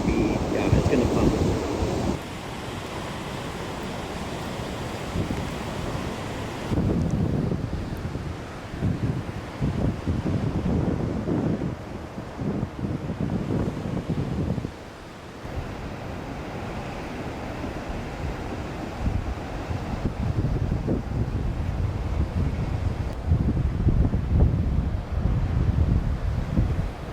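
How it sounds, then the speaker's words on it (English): A strong west wind roars at the coast of St Francis Bay, buffeting the microphone in loud continuous gusts with crashing surf beneath. "the waves actually, they're beautiful shape today, but yo, this wind"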